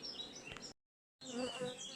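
Honey bees hum steadily at a beehive, a close, dense buzzing drone broken by a short stretch of silence in the middle.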